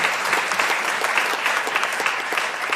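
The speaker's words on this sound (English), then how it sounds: "And that applause is to all the team" A brief, steady burst of crowd clapping fills the room at the Cornwall Heritage Awards 2024 ceremony, dense and even from start to finish.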